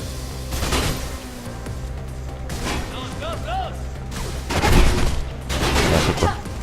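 Gunfire in the video game Mirror's Edge, with bursts of rapid shots and sharp impacts against glass in loud clusters, mixed with game effects.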